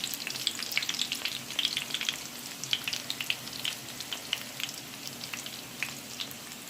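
Bara dough frying in hot oil for Trinidadian bara, a steady crackling sizzle dotted with small sharp pops and spits, close up and continuous with no voices.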